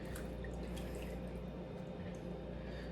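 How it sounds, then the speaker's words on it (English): Water swished and dripping while seeds are rinsed out of canned chipotle peppers in adobo, a close, continuous trickle with small droplet ticks in a kitchen sink. "I'm just gonna use the water that's in here to kind of help rinse out the seeds."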